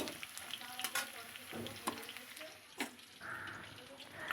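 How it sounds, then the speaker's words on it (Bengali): Potatoes fry in hot oil, a steady close sizzle broken by scraping and stirring knocks from the pan and a brief watery hiss near the end. "আলুটা বেশ লাল লাল করে ভেজে নেব"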